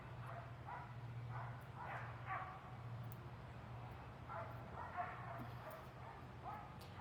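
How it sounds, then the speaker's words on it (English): A dog barking at a distance outdoors during an evening walk, a series of faint, irregular barks and yips over a low steady hum. "Dog's starting to bark now."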